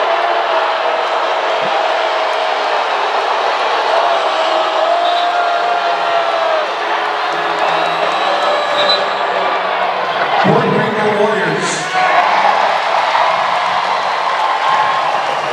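A large crowd at a men's volleyball match between Hawaii and UC Irvine roars continuously, the booing giving way to loud sustained applause and cheering that fills the arena throughout.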